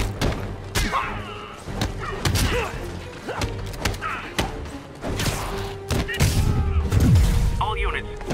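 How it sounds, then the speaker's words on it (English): Escaped prisoners fire guns from stolen vehicles in Marvel's Spider-Man, with repeated sharp shots and heavy thuds cracking through a busy game mix while voices talk over the action. "prisoners are opening fire from stolen vehicles"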